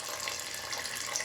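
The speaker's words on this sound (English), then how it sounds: "So go ahead and pour some water in." Water pours steadily into a container while making homemade ginger beer, a continuous close hiss and splash with no break over the short stretch and no voices.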